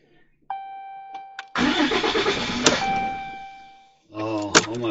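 A 2018 Ram 2500 with a Cummins 6.7 diesel engine and manual clutch is cranked; after a whirring start attempt it fires into a loud, rough roar for a few seconds and then cuts out, followed by a brief voice.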